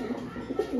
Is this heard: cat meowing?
no